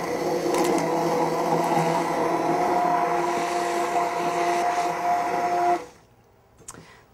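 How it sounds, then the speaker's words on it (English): A small hand blender whirs through a vanilla apple filling with lemon peel, a loud steady motor drone with a slight pitch wobble, then it cuts off abruptly near the end, leaving a faint clink. "Now you could put this in a blender if you want. I'm just using my little hand blender."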